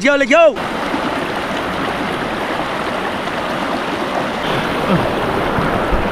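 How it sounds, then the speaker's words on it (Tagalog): Strong river current rushing steadily in a broad, close wash of water noise. A brief shout opens the clip and faint voices come through later. "Ang lakas ng agos."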